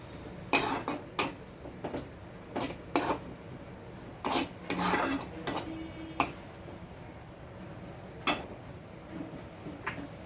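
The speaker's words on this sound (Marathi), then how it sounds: "आता आपण छान मिक्स करून घ्यायचं आहे आणि आणखीन छान मसाल्याला भाजून घ्यायचं आहे" Masala of spices and coriander powder being stirred and roasted in oil in a pan for a cauliflower curry, with sharp scattered clinks and scrapes of a spoon against the metal, close and intermittent, no talk.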